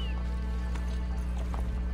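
Horse hooves clopping in Assassin's Creed Brotherhood, a few muffled hoofbeats over a steady droning game soundtrack.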